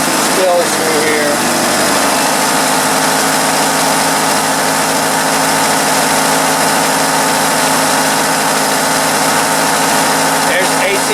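Iron Duke 2.5L flat tappet four-cylinder engine, with a loose AC belt, idling steadily on a stand, a continuous close mechanical drone with light ticking throughout, no voices.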